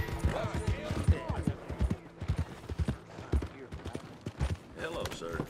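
Horse hooves clip-clop along a town street in the video game Red Dead Redemption 2, in a steady rhythm close by, with people shouting and talking over them.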